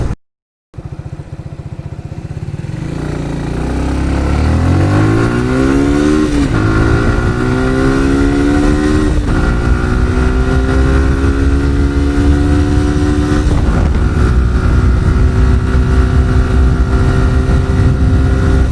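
A Suzuki Gixxer SF 155 motorcycle engine idles, then revs steadily upward into a loud, sustained high-pitched roar that holds for a long stretch.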